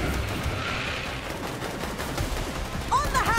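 Video game gunfire fills the scene as a rapid, steady fusillade of shots, with game effects rising near the end and a voice faintly underneath.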